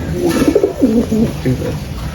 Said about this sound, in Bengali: এখানে অনেক জাতের কবুতর আছে